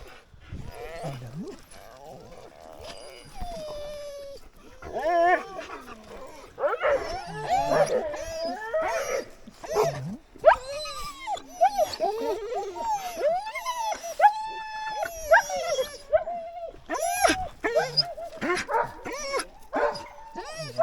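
Sled dogs in Norway bark, yip and howl in an excited, overlapping chorus before a sledding run on snowless ground, loud and close throughout, with occasional human voices mixed in.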